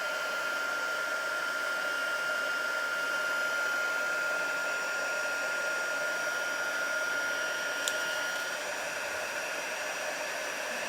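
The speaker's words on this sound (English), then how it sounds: "So we are just making sure all of that heat embossing is done." Heat embossing tool blowing hot air steadily over a book page, a constant close whooshing hiss with a faint tonal whine running through the whole stretch, uninterrupted and loud.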